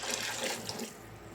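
A steady stream of water splashes and rushes continuously into a cooking pot, moderately close, with no voices.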